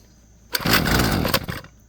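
A Husqvarna 128LD weedeater engine on full choke bursts into a loud, close two-stroke roar for about a second, then sputters and dies.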